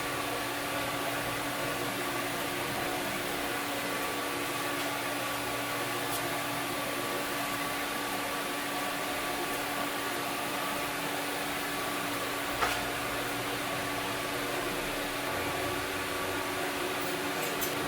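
A copper banjo rim joint is welded with a steady, even hiss and hum that continues without a break, close and unaccompanied by speech.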